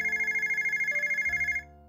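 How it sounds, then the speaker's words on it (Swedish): A telephone rings with a steady trilling bell tone for about a second and a half, loud and close, then cuts off abruptly. "Jag tror det är min gamla vän Kai som ringer."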